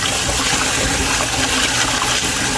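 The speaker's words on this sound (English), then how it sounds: "it was a good time for me to wash out my rice" Rice being washed under running water for a Grainy Pelau, a loud, steady gush of water into a pot, close and continuous with no breaks or talking.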